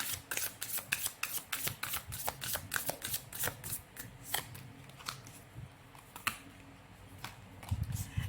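Tarot cards shuffled by hand at close range, a steady run of crisp riffling flicks and light card snaps that thins out toward the end, with no voices.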